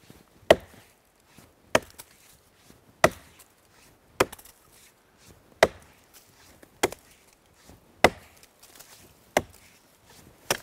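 Sharp, evenly spaced axe strikes split firewood, about eight crisp chops at a steady roughly one-per-second rhythm, close and alone with quiet gaps between.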